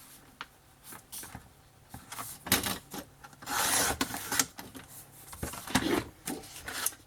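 Paper being cut by hand for a travel-journal scrapbook album, a series of soft scraping, rasping strokes with short pauses between them, close and fairly quiet, with no talking.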